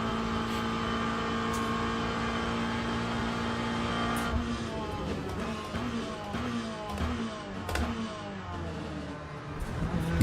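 Race car engine in the sim racing game iRacing, a Mustang on track, droning steadily with shifting pitch as it accelerates and changes gear, carrying on throughout at moderate level.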